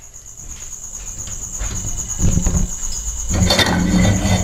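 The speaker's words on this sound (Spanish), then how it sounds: "por eso se escucha al fondo el canto de algunos grillos cuando se tomó este audio" A steady, high-pitched chorus of crickets trills continuously in the background before dawn, joined by intermittent low rustling and handling noises close by.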